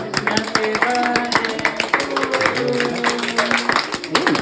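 People clapping at a birthday celebration, quick irregular claps under overlapping voices and tonal singing, close and lively.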